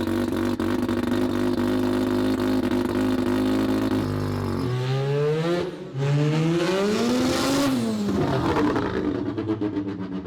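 A rotary-swapped Corvette with a semi-peripheral-port two-rotor engine drones loudly at steady revs, then the pitch drops, climbs, dips and surges again as it is driven, a raspy, buzzing wail heard from inside.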